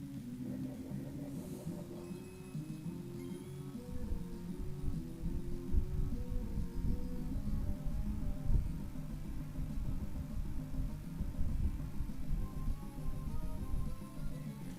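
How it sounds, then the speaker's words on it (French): Sandstorm weather in the Pokémon Snakewood video game makes a continuous low, windy rumble that swells after a few seconds and stays loud, with faint tonal game music layered underneath and no speech. "Allez, recrée la tempête de sable."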